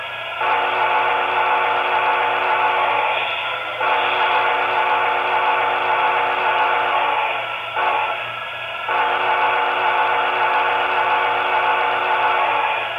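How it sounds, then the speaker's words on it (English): A model train whistle sounds in long sustained blasts, steady and loud, with a brief gap and a short dip before it resumes. "Let's listen to that whistle again."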